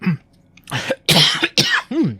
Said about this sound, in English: You must have coughed something up.